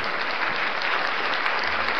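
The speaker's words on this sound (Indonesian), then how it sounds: "Itu ada tepuk tangan itu kayak" Brief, dense applause from a crowd, steady and fairly close, with no voices over it.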